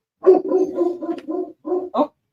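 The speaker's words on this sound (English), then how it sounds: "there's Beans barking at something." A dog barks at something indoors, a quick series of about six close, rough barks and growls spaced by short pauses, fairly loud and alone with no talk over it.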